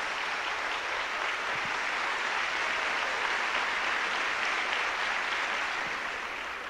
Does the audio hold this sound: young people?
yes